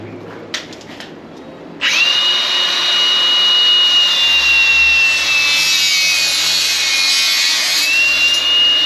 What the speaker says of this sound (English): you got to try and cut that on an angle. Give me the grinder.